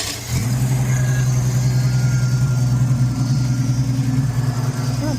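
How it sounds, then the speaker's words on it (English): A 1966 Ford Falcon engine idles steadily and close by, a low rumbling hum with a faint whine from the power steering working, continuing evenly for several seconds with no talk. "Well, power steering's kind of sound like it's trying to work."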